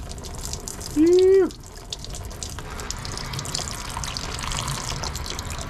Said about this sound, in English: when we get home and we drain the back transfer case, look at all that water.